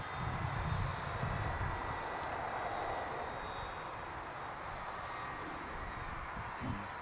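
A 1.7 metre FMS Super Cub radio-controlled model plane flies in the wind, its steady engine drone and wind rush holding at an even level throughout, with no talk.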